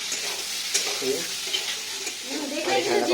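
Malpua made from semolina and flour batter fries in hot oil, giving a close, steady sizzle with bursts of bubbling and light stirring.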